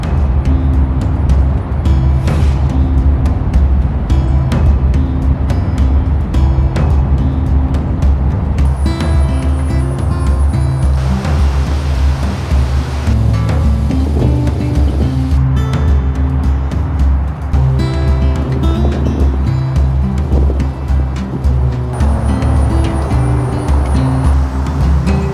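A car drives steadily along a route through Memphis, with a continuous loud low rumble of engine and road noise inside the cabin for the whole stretch, broken by only brief faint sounds.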